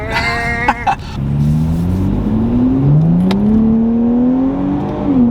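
A 400-horsepower truck revs and accelerates hard from a yard, heard close and loud, its engine tone climbing in long rising sweeps through the gears after a few sharp knocks at the start.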